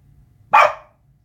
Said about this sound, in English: we just heard a rare butter bark